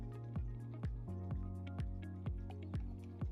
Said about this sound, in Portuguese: nitrogênio geralmente eu uso aqui no conta-gotas mesmo, né? Eu pego aqui no conta-gotas